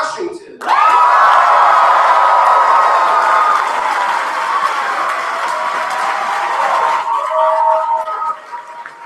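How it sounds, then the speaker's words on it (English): An awards ceremony audience bursts into loud, sustained clapping with some cheers and whoops for the Washington team, then the applause gradually thins out near the end. "Clap for Washington."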